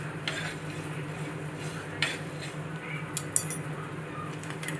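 Whole coriander seeds being stirred as they dry-roast in a pan, a faint steady rustle and sizzle broken by a few sharp scrapes and clinks of the utensil against the metal.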